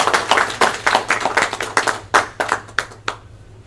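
A small conference audience gives a brief round of applause for a fellow developer's device driver work, scattered hand claps that thin out and taper to a few last claps.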